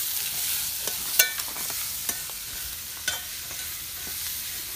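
Chicken curry with chana dal is stirred in a pan, a soft continuous sizzle with occasional spoon clinks and scrapes against the metal, fairly quiet and without voices.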